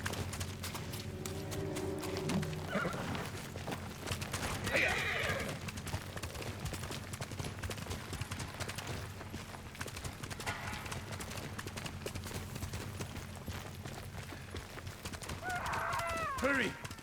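Horse in Ghost of Tsushima, feudal Japan setting, with steady clip-clop hoofbeats and loud whinnies near the start and again at the end, under a continuous game music and ambience bed.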